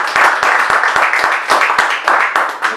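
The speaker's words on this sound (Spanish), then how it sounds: "démosle un aplauso al doctor" An audience applauds a doctor introduced as the speaker at a talk, steady crowd clapping with many overlapping sharp claps throughout, fairly loud and without pause.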